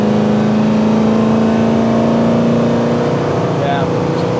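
A 1970 Mustang Fastback on a test drive pulls hard with a loud, close engine drone that holds steady and then eases off near the end, with a voice faintly under it.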